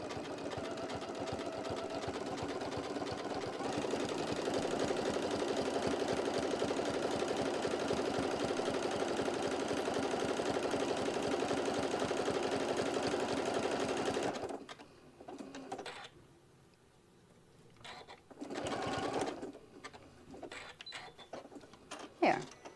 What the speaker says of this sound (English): let it go ahead and stitch down this edge right here